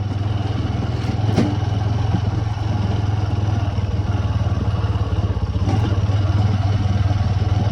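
A motorcycle rides toward a farm, its engine a steady droning hum with a rattling clatter and a couple of sharp knocks as it bumps along an uneven track, close and loud throughout.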